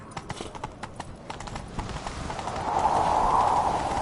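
Rapid clip-clop of a horse's galloping hooves in a video game, steady and close, with a rising whoosh of wind or motion building toward the end.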